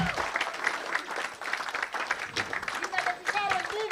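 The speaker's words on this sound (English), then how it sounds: "Keep on clapping, please. Keep on clapping." An audience at a conference claps steadily and fairly softly for a few seconds, with an announcer's voice talking over the applause.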